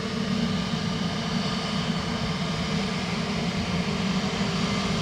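Emirates airliner at Dublin Airport on a soggy, crosswind day, a continuous loud engine roar held close and even throughout with no voices.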